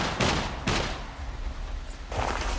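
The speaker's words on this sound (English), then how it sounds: "Nah, he's shooting at me." Gunfire in the survival game SCUM, with three loud, broadband bursts that boom near, spaced apart over a steady background rumble, with no voices.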